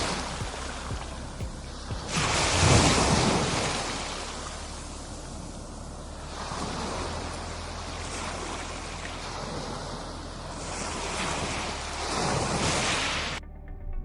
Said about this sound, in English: Stand on the shore, with the wind whipping your clothes and the waves crashing below.